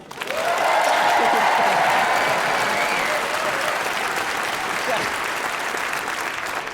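Loud, sustained audience applause fills a stand-up comedy show, a dense wash of many hands clapping at once that holds steady for several seconds before easing slightly toward the end.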